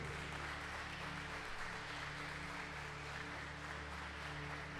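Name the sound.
congregation clapping for Jesus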